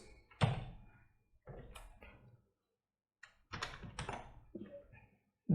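Clicks and short bursts of key presses on a computer keyboard as a command is typed into an Ubuntu terminal, quiet and close, with pauses between clusters of strokes.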